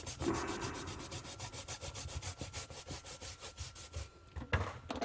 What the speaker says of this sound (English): rub out that pencil work.